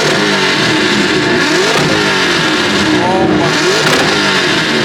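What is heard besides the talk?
car engines revving in a rev battle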